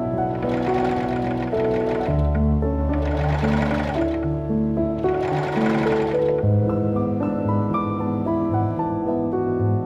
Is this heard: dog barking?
no